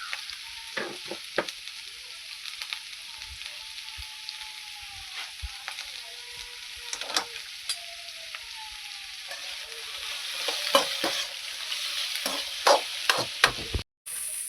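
Onion and green chili fry in a pan with salt, a steady hiss of sizzling oil under scattered scrapes and taps of a stirring spoon, growing busier toward the end, close and with no speech.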